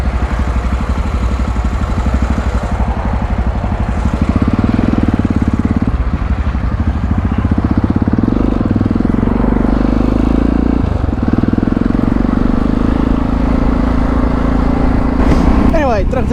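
A BMW 650 GS motorcycle engine runs loudly and continuously up close, a steady throbbing idle with clattering texture and slight shifts in pitch.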